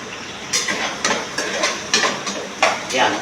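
Pork for pakbet being sautéed in a pan, with a steady sizzle broken by repeated louder scraping stirs of the spatula at a roughly even rhythm, close and fairly loud.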